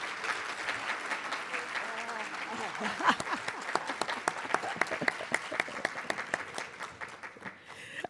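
A room of people applauding inductees at a PTK honor society induction ceremony, a moderate crowd clapping that starts full, then thins into fewer, distinct individual claps as it tapers off near the end.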